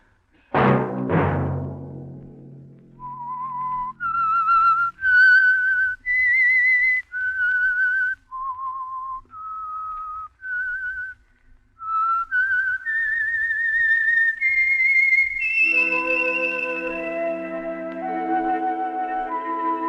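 The Whistler radio program's theme: a sustained, melodic whistled tune, clear and close, moving through held notes before a sustained orchestral chord takes over at the end.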